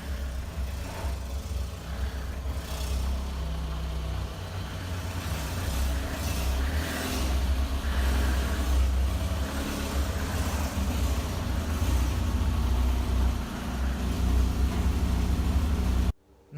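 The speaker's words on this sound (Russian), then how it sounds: "сейчас загоняем машину и уже непосредственно приступаем к ремонту" A VAZ 2114-family Lada car engine runs steadily as it is driven into a garage, a low continuous rumble close by, cutting off abruptly at the very end.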